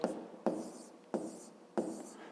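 Pen or pencil writing on paper during a fifth-grade maths lesson, heard as four short scratching strokes, each beginning with a sharp onset and trailing off, fairly quiet and close.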